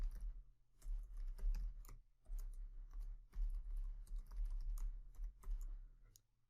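Quiet close typing on a computer keyboard while writing Python code, with irregular runs of soft key clicks broken by short pauses.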